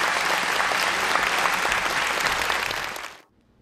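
Audience applause at a book launch event, dense and steady for about three seconds before cutting off abruptly into silence.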